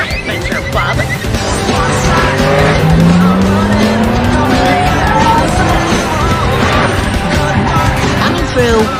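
A loud car chase in the film Looney Tunes: Back in Action, with engines roaring continuously and tires squealing in long sliding tones, a dense, close, unbroken wall of vehicle noise.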